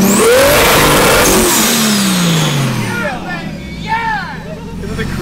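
Turbocharged JZ engine in a Nissan S13 revving hard with a loud wastegate chattering and whooshing, then the revs falling away as the note drops; close and loud, with a person speaking over it.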